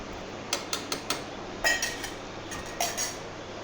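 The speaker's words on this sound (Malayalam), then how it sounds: "ഞാനിപ്പോൾ 2 കപ്പ് വെള്ളം ഒഴിച്ച് ഒരു സ്പൂൺ കൊണ്ട് നന്നായിട്ടൊന്ന് ഇളക്കി കൊടുക്കാം" A spoon stirs wheat flour with water in a bowl, giving a run of light metallic clinks and taps, some single and some in small clusters, close and quiet against a faint background hiss.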